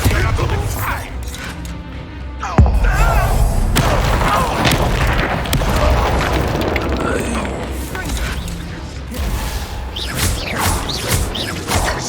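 Confringo and Bombarda spells go off in the video game Hogwarts Legacy: a loud boom with a sharp crack of impact, then rumbling blasts, debris crashes and clattering mechanisms through a dense, noisy combat mix.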